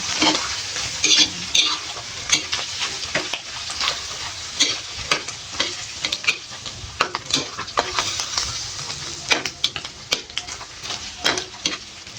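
Crispy isaw, grilled chicken intestines, sizzles and spatters in a pan under a cover, a close, steady crackle broken by sharp pops and occasional clinks of a utensil.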